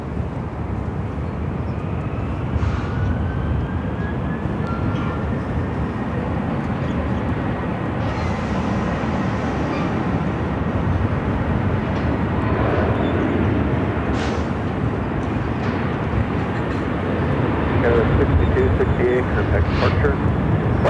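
Southwest Airlines Boeing 737-800 taking off from Phoenix airport, a sustained broadband jet roar heard from a distance that builds slightly toward the end.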